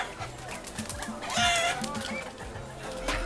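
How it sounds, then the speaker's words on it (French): Hens cluck at an outdoor street market in Saint-Pierre, with short fowl calls rising over a steady background of market bustle. "Ça c'est le stimuli parfait, les poules."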